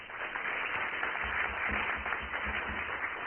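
Audience applauding city leaders at a community event, a steady dense wash of clapping sustained throughout with some low rumble underneath.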